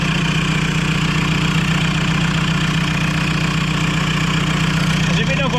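A Toyota MR2 Mk3 fitted with a converted 1.9 TDI PD diesel engine runs steadily at idle, its loud, even diesel clatter close by and unbroken throughout.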